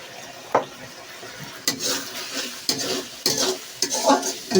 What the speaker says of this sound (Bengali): ভালো মতো মশলাটা ভাজিলে